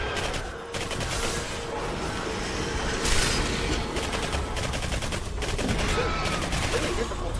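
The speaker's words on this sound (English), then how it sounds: "let's shoot him in the elbow then" Rapid bursts of automatic gunfire from the Xbox 360 shooter Singularity rattle on continuously and loudly, close and dense, with brief pauses between volleys and a noisy game soundscape underneath.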